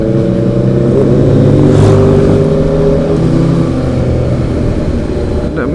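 A Honda CB650R fitted with an aftermarket exhaust revs nearby, a loud, sustained engine note that swells and settles with shifting harmonic tones and no talk over it.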